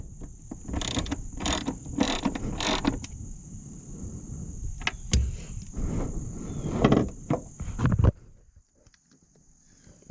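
A ratchet tightens the battery hold-down on a Porsche 944 in quick, repeated close clicking bursts, with a steady high whine in the background, then stops.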